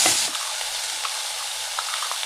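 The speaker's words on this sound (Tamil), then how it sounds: "இது நல்லா வதக்கிக்கலாம்." Onion and tomato sizzle steadily in a hot pan, a constant frying hiss with a faint scrape or two from stirring.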